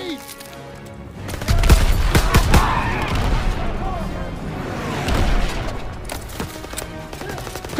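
Battle gunfire in the World War II shooter Call of Duty WW2, with scattered sharp shots and a continuous rumbling barrage mixed under shouting voices.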